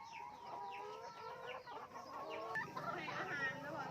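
Hens on a small egg farm cluck and squawk close by in busy overlapping calls during egg collection, with a person's voice talking softly in the background.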